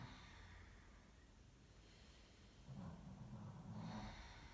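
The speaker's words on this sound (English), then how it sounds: "So that's Snickers snoring." A pet snores nearby, two soft breathy snorts swelling out of a low indoor hum in the second half, quiet and unhurried.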